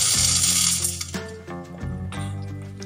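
Popcorn kernels are poured into a metal pan with a little oil, rattling and clinking against the metal with a bright ringing tone, in a couple of close pouring bursts.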